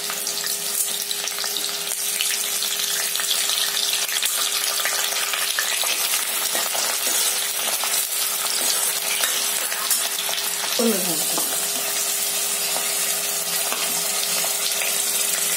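Curry leaves crackle and fry in a ladleful of hot oil for a dried-shrimp rassa curry. A loud, continuous sizzle is broken by occasional stirring scrapes, with a faint steady hum underneath.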